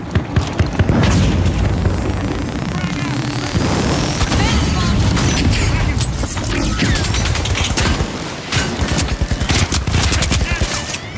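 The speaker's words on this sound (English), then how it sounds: "Frag grenade out." A frag grenade explodes in The Finals video game amid a dense, loud barrage of booming blasts and rapid gunfire that runs continuously throughout.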